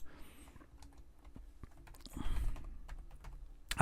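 Keys on a computer keyboard are tapped softly during 3D modeling work, with a few faint isolated clicks and then a louder cluster of keystrokes and a space bar press near the end in a quiet room.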